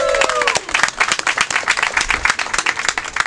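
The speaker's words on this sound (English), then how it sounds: "Big round of applause." A crowd applauds at the outdoor unveiling of Washington, D.C.'s first curbside electric charging station, with brisk, close clapping from many hands and a few voices at the start.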